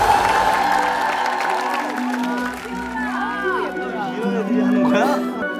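A studio audience claps and cheers for the first team on a Korean talent show stage, steady applause with whoops and shouts, while a host talks over the crowd.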